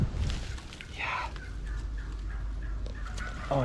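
A wild turkey tom gobbles once in a rough, rattling burst outdoors during a spring bowhunt, standing out against steady low background noise.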